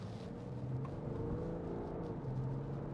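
The diesel engine of a 2016 BMW 530d M Sport Touring automatic drones steadily from inside the cabin as the car accelerates, faint and smooth, with a low hum and a slowly shifting pitch.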